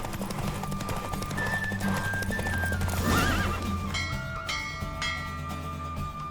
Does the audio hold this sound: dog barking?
no